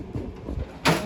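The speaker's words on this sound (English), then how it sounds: "These drawers are a little hard to open because this is an old box." An old, beat-up metal toolbox drawer is dragged open with stiff, scraping, rattling friction, ending in a louder clack. Close and short, with no talking.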